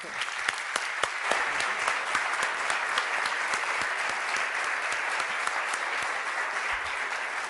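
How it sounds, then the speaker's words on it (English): Audience applause for a consulting firm's presenters at the end of a business school lecture session, a steady, fairly quiet wash of many people clapping with a few crisp individual claps standing out. "Big hand of applause to A.T. Kearney."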